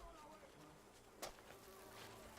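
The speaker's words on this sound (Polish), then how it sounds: "Muchy latają wszędzie, zajebiście." Flies buzz steadily around a riverside area in Call of Duty Modern Warfare 3, a faint continuous drone with a brief louder swell midway and no talking.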